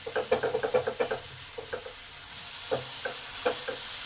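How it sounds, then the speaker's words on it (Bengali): Tomato paste with spices fries in a pan for a fish curry, a soft sizzle under a quick series of clacking spatula stirs that thin out into a few scattered scrapes. "এই টমেটোটাকেও 5 মিনিট ধরে কষে নেবো, যাতে টমেটোর কাঁচা গন্ধটা দূর হয়।"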